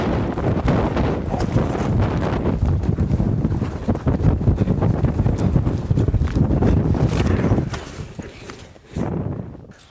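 A horse gallops during a steer roping run, with rapid hoofbeats pounding close to the microphone over gusty wind noise, then fading and breaking off near the end.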